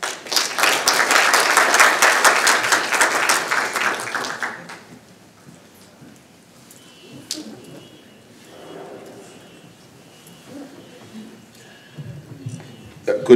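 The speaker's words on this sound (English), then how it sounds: "A round of applause, please." Audience clapping at an academic panel discussion on South African and US political tensions, a full round of applause for about four seconds that quickly fades into quiet room noise and a few faint sounds.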